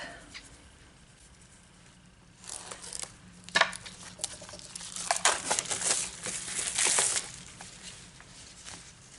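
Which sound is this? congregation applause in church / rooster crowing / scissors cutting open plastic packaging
scissors cutting open plastic packaging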